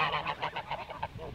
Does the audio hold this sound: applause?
no